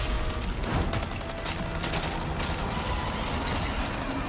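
A Chicago Sweeper tommy gun fires in Resident Evil 4 Separate Ways as a sustained, loud burst of rapid automatic gunfire with a dense, rattling texture that never lets up.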